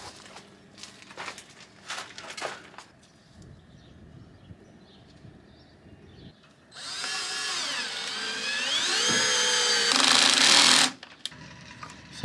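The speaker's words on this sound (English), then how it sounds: "I'm putting it on the screws when I screw them in." Power drill driving screws during an amateur sailboat refit, a rising, whirring motor run of about four seconds that climbs in pitch, preceded by quieter handling knocks and clicks.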